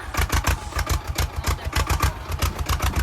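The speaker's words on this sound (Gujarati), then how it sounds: "અત્યારે છે ને એક ભાઈ ટ્રેક્ટર લઈને કેદારનાથ ઉપર જાય છે." A tractor engine climbing the route up to Kedarnath chugs in a fast, even rhythm of low thumping pulses, close and steady throughout, with no voices.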